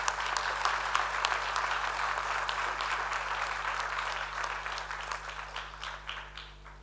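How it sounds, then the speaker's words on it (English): A graduation ceremony audience gives a sustained round of dense, continuous clapping in a large hall, steady throughout and tapering slightly toward the end. "can we just give one more round of applause and thank you for a great speech"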